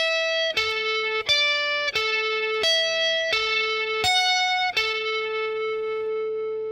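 An electric guitar plays the first bar of a song intro, a clean, distorted run of seven quick plucked notes in an even rhythm, the last note ringing out alone.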